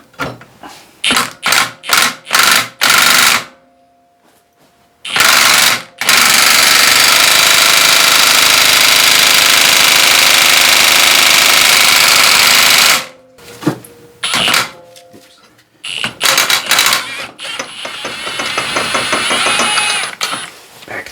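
Impact wrench working on a Polaris Switchback 600 CFI snowmobile engine during an engine pull: several short rattling bursts, a long sustained hammering run, then more choppy bursts, loud and close with no talk.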